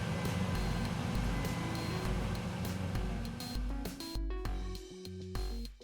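2004 Dodge Dakota truck engine running after a new fuel pump assembly install, a steady close idle hum with mechanical ticking and a tonal whine, shifting slightly toward the end.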